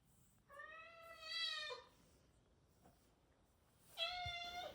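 Lulu, a pet kitten, gives two clear, drawn-out meows a couple of seconds apart, close and fairly soft in a quiet room.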